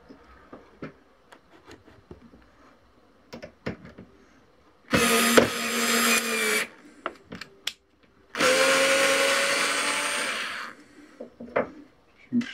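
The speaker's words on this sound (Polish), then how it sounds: "Teraz wkręcenie śrub wkrętów. Jest miękkie drewno" A Parkside PAS D5 cordless screwdriver drives screws into soft wood in two sustained whining motor runs of about two and three seconds, separated and surrounded by scattered handling clicks and knocks.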